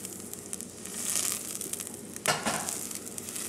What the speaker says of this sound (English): You can see the cumins beginning to roast.